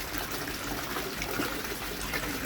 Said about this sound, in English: I'm just going to put my hose pipe on to top the water back up